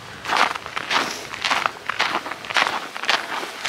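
Footsteps walking along a forest road in Sweden, a steady series of crunching steps on a gravelly surface, close and moderately loud, with no voices.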